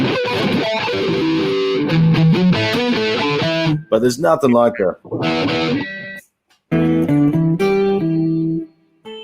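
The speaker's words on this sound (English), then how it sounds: "You can't really tell the difference with the distortion, but you can really hear the 12-string shine." Distorted twelve-string guitar chords ring out bright and loud, stopping briefly and starting again, while someone talks between and over the strumming.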